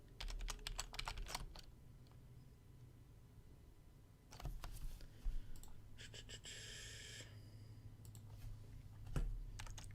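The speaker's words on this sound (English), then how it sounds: "I bet that typing's annoying. It's right next to my microphone." Computer keyboard typing right beside the microphone, bursts of rapid clicking keystrokes at the start and again midway, close and fairly loud, with a few heavier key thumps and a low background hum.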